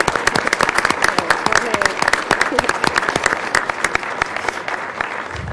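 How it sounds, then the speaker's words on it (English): A room of people at a county commissioners' business meeting gives a firm round of applause, sharp close claps packed into a continuous rattle that stays loud throughout. "join me in a firm and rowdy round of applause for Mary"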